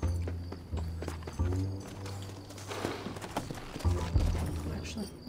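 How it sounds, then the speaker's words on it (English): Horse hooves clip-clop in a brisk rhythm in Red Dead Redemption over a low steady drone, with game sounds and a voice talking intermittently in the background. "You can't call Brown, there's a horse."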